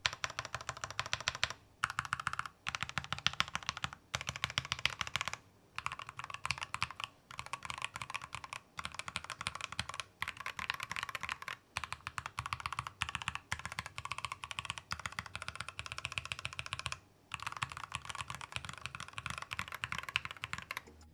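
Rapid typing on a Cox CKP01 Pro mechanical numpad with lubricated switches and quiet springs: a soft, dense stream of key clicks and clacks, close and fairly quiet, with brief pauses between bursts.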